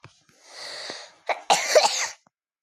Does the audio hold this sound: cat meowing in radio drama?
no